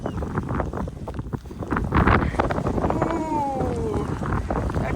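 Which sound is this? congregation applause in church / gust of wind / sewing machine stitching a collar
gust of wind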